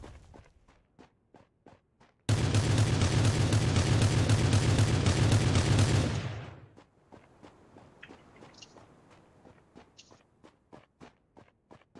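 Bursts of rapid gunfire in a shooter video game, loud and sustained for several seconds, followed by a quieter run of footstep-like clicks.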